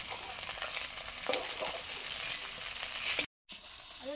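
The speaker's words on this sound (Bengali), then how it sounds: "চারা মাছগুলো ভাজা হয়ে গেছে, তুলে নিচ্ছি" Small fish frying in oil in a pan, a steady close sizzle with brief stirring bursts and a short gap near the end.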